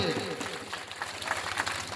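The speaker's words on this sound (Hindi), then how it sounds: "ताली बजाएंगे जोरदार इन बच्चों के लिए।" A room of people clapping loudly for schoolchildren at a class 9 report-card ceremony, a steady, dense wash of applause that holds throughout.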